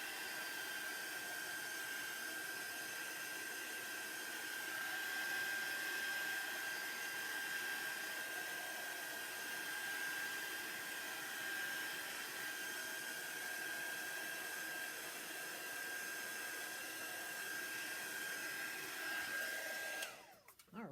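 Heat gun drying paper journal ephemera, a loud, steady blowing whine with a constant high tone running for about twenty seconds before it is switched off and winds down abruptly.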